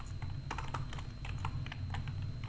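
Close, crisp keystrokes on a computer keyboard as code is typed, arriving in quick irregular clusters over a low steady hum, with no voices.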